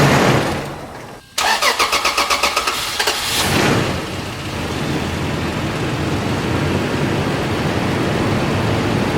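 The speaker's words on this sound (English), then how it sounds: "Now I need to start the car, get it up to temperature so I could put the rest of the fluid in." A Toyota 4Runner engine, started after sitting a long time following a fluid refill, cranks with a quick run of rhythmic starter pulses, catches and settles into a steady, loud idle close by.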